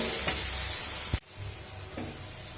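Onions with a little salt and turmeric sizzle loudly in a hot pan, then the frying noise drops abruptly and continues softer with a light stir.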